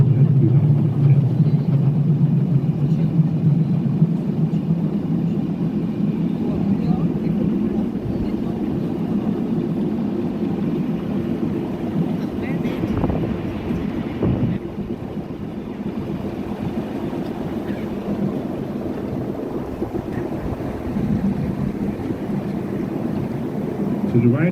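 Tour boat motoring along a Copenhagen canal past the old citadel, a steady low engine drone with wind and water wash throughout, quiet voices in the background.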